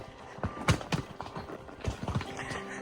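A horse's hooves clop unevenly on a dirt trail on the Lake Solitude Loop at a walking pace, close by, with faint outdoor background sound.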